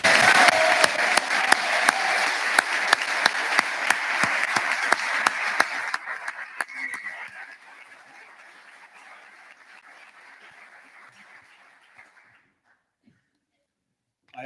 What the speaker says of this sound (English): And if we could ask Josh to remain standing for a well-deserved round of applause